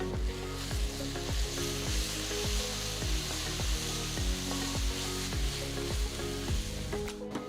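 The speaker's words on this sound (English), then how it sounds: "Now I'm going to add 2 tablespoons of ginger garlic paste." Ginger garlic paste hitting golden fried onions in a hot pan for chicken salna, a dense continuous sizzle with rhythmic scraping and stirring strokes, close and steady.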